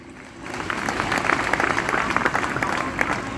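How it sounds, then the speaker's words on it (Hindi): Crowd at a Hindi kavi sammelan poetry concert in Rajnandgaon's Ganj Mandi breaks into applause, clapping building after a brief quiet start into loud, dense, sustained claps with crowd murmur. "आशीर्वाद वाली तालियां तो दीजिए।"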